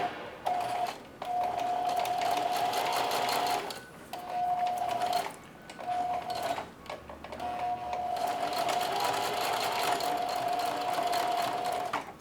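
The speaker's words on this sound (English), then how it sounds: "I'm going to bar tack this, zigzag forward and backward for the entire little length there." A sewing machine runs a zigzag bar tack forward and backward on apron straps, its steady mechanical whir and tone coming in several sustained runs separated by short pauses, with no talking.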